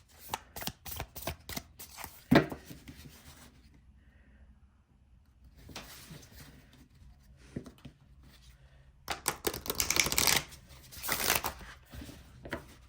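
A deck of divination cards is shuffled by hand, giving bursts of crisp riffling and clattering with a quiet pause in the middle, close by and moderately loud, with no talking.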